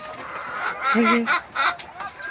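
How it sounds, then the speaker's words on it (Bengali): Several layer hens, including a black hen, clucking and honking close by, with some overlapping calls and a faint voice underneath. "তুমি তুমি কালা মুরগি?"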